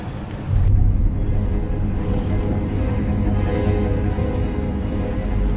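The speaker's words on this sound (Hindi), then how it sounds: "रोको गाड़ी।" A car drives along with a steady, low engine rumble that fills the whole stretch without a break, and no one speaks over it.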